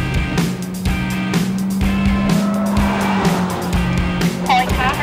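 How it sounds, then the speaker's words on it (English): Race car driving past a parked 747 on a track, engine droning steadily with shifting pitch and brief tyre squeal near the end, loud and continuous. "Nikki Welsby takes her turn past the 747"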